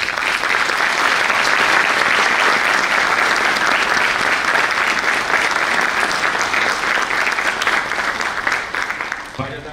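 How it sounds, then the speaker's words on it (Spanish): An audience at a choral concert bursts into loud, sustained applause that fills the space evenly before tapering off at the end. "solicitamos un fuerte aplauso a tamaño reconocimiento"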